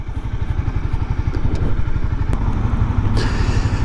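Honda CBR 300 motorcycle riding along, its small engine giving a steady, close, low throbbing drone mixed with rushing wind noise and occasional light clatter.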